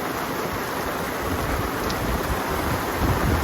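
Heavy rain pours steadily over a campsite in Valle de Cocora, a dense, continuous hiss of water on ground and gear with no pauses and no voices.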